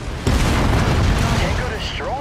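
A destroyed mech blows up in MechWarrior 5: Mercenaries with a loud, sudden boom that rolls into a long, dense rumble, while radio chatter and in-game voices sound over it.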